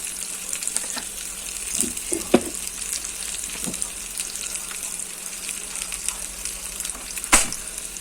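Curry leaves, cumin and mustard seeds frying in hot oil for a tomato rasam make a steady, close sizzle, with occasional louder pops and crackles throughout.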